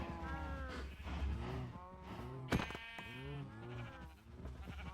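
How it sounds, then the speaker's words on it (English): Blocky video-game sheep in Minecraft bleat several times in a row, fairly quiet, with a sharp click or hit sound in the middle. "Sorry, sheep, but I need wool"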